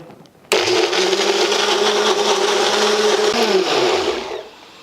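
A small bullet-style mixie grinds coconut, starting abruptly with a loud, steady motor whine that holds for about four seconds, then winds down and stops.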